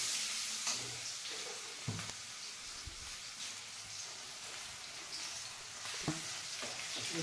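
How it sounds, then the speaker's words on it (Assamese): Onions fry in oil with a soft, steady sizzle, the first step of a bitter-flower vegetable curry. A few light clinks of stirring come through, all quiet and close, with no voices. "এয়া মায়ে এতিয়া তিতাৰ ফুলৰ চব্জিটো বনাব প্ৰথমতে তেলত পিঁয়াজ দি দিছে"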